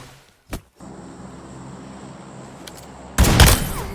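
Gunfire in PUBG Mobile: a short crack early, a steady low rumble, then a loud, dense burst of shots near the end.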